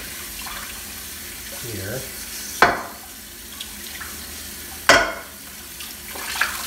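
Dishes are rinsed by hand under a running kitchen tap, water flowing steadily with two sharp clatters of dishware and a few softer knocks, while a person speaks briefly nearby.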